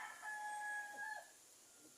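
A rooster crows loudly nearby, one long drawn-out call, followed by a few softer clucks in a quiet setting.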